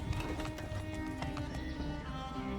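Several horses gallop in the Mount & Blade 2 Bannerlord video game, their rapid hoofbeats clattering densely over a rumbling bed of game sound, with a neigh breaking through near the end.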